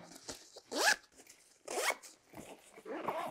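Zippers with contrasting pulls on the mesh pockets of a Highlander Stoirm 40 L military backpack, pulled in three rasping strokes, close and crisp with no talking.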